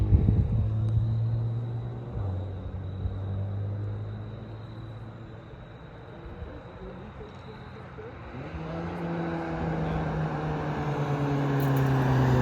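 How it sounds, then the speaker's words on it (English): A Mini Cooper GP passes on a winding mountain road, its engine rumbling up and fading, then another vehicle's tone rising near the end, heard from a car interior with steady road noise underneath. "There's a Mini Cooper GP."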